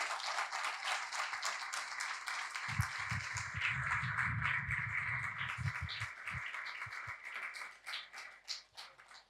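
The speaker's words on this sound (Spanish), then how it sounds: "Dale un aplauso al Señor esta mañana." Church congregation applauding during a Spanish-language service, a burst of clapping that starts a few seconds in and fades out over several seconds, fairly faint beneath a sustained high background tone.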